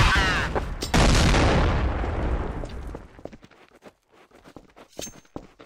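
A loud explosion booms in Counter-Strike: Source, a close heavy blast that rolls off into a fading rumble, followed by scattered faint game clicks and taps.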